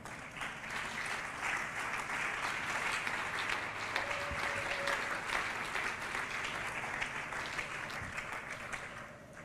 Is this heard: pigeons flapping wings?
no